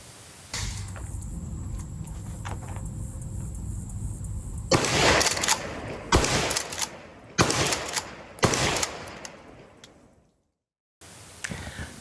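Remington 870 Express 20 gauge shotgun firing buckshot at 20 yards outdoors: several loud, sharp blasts with pump-action racking between them, then a short silence and a final burst of noise.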